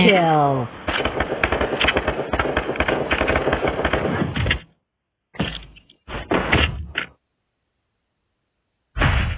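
Rapid bursts of gunfire from the shooting video game Free Fire in a 4v4 match, sustained at first and then in short separated volleys, with a voice briefly at the start.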